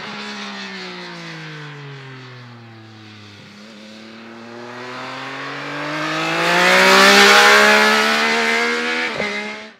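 A Triumph Speed Triple RS triple-cylinder motorcycle engine revs hard and close, its pitch sagging and then climbing to a loud peak before dropping sharply at the end.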